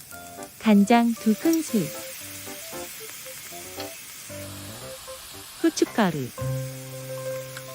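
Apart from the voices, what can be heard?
mushrooms stir-frying in a pan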